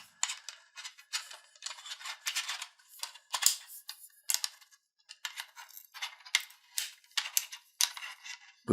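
Aluminum legs of a Peak Design travel tripod are handled and locked, giving a quick series of sharp metallic clicks and snaps, close and fairly quiet, in irregular bursts with brief pauses between.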